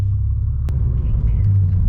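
A BMW F80 M3 under full throttle, giving a deep, steady low-pitched rumble and drone inside the car, loud and continuous with a faint vibration throughout.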